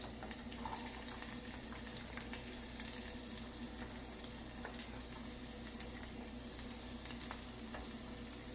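Onions and peppers sautéing in a pan with a touch of oil give a steady, close sizzle that runs the whole time, with light clinks of stirring scattered through it.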